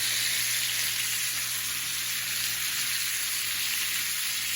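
Chicken thighs sauté slowly in a pan over low heat, giving a steady, even sizzle with a soft hiss and faint crackle throughout, close and unbroken, with no talking.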